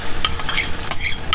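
Clams cook in their own juices in a pan with a soft, close sizzle, while a few light clinks and stirring scrapes of a utensil against the pan break through.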